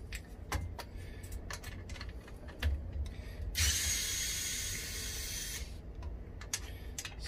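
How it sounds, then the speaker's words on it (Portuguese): Four screws being backed out of a Philips airfryer with a screwdriver during a workshop cleaning, giving faint clicks and small metallic ratcheting taps, with a brief louder whirring burst midway; no speech. "Só remover os quatro parafusos, nada complicado."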